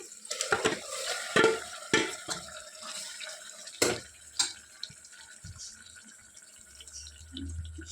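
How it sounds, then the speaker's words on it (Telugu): Marinated mutton is dropped into softened tomatoes in a hot pan: a series of clattering knocks and scrapes, then a gentle, wet sizzle that carries on quietly. "ఇప్పుడు ఇందులో మనం మ్యారినేట్ చేసి పెట్టుకున్న మటన్ యాడ్ చేసుకుందాం"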